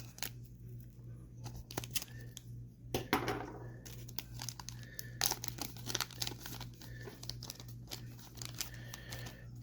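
Foil wrapper of a 1991 Fleer Ultra baseball card pack crinkling and tearing open, repeated close crackles and rips over a steady low hum, with no talking.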